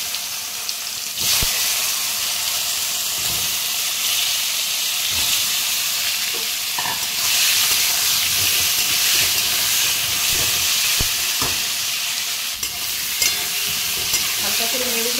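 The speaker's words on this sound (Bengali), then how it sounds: "মাছ ভাজার তেলে আমি এই পটলগুলো ভেজে নেব।" Pointed gourd pieces fry in hot oil left over from frying rohu fish, a loud steady sizzle and hiss close up, broken by occasional clinks and scrapes of stirring.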